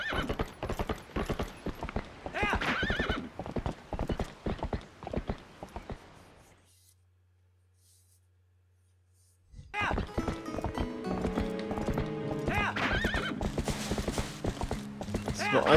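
Hooves of the horse Epona clatter in a rapid galloping clip-clop in The Legend of Zelda: Twilight Princess HD, broken by a few seconds of near silence before the hoofbeats return with game music.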